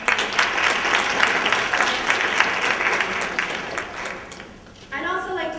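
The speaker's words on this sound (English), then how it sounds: "So a big round of applause for them." Audience at a university lecture event claps in a sustained round of applause lasting several seconds, fading toward the end before a voice speaks.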